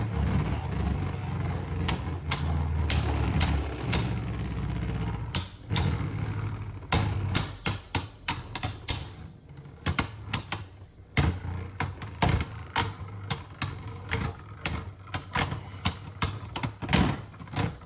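Beyblade Burst spinning tops from a Nebula battle set clashing in a stadium: a steady whirring spin, then a rapid run of sharp clicks and clattering knocks as the tops collide, loud and close.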